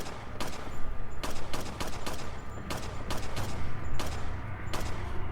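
Rapid gunfire in the video game Resident Evil 4, a dense run of sharp repeated shots in irregular bursts, loud and continuous over a rumbling game background.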